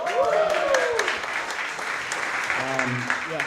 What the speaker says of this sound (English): Come on, give a round of applause.